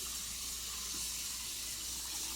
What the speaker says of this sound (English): I'm just going to rinse them with some cold water to stop the cooking